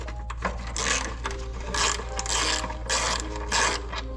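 Ratchet wrench turning out 12mm brake line bracket bolts during a Nissan 350z brake install, a run of quick clicking bursts repeating in steady spells, close and fairly loud over a low background hum.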